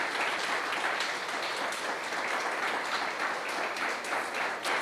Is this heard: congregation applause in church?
yes